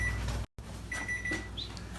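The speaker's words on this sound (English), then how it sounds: "When we hear the beeper go off, we know" An oven timer beeps while French bread bakes, giving short electronic tones broken by a brief gap of silence, fairly quiet over low kitchen hum.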